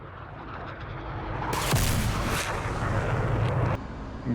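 AGM-65 Maverick missile launched from an F/A-18 in the DCS World video game: a sudden loud rushing roar of the launch over steady cockpit and engine noise, holding for about two seconds before cutting back.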